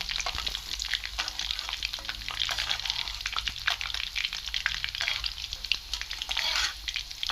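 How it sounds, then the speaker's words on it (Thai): Garlic sizzles and crackles steadily in hot oil, with occasional stirring scrapes; no one speaks. "เจียวกระเทียมให้เหลืองหอมแล้วก็ค่อยสีใส่ไข่ลงไปด้วยกัน"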